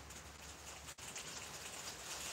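Steady rain falls as a dense, even hiss of drops on surfaces, continuous and soft throughout, with a brief dip in the middle and no talking.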